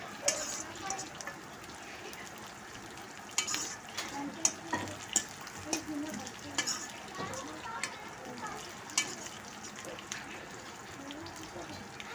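Mutton curry masala with green chillies fries in a pan, a soft sizzle broken by repeated clinks and scrapes of a stirring spoon against metal, with a person talking over the cooking.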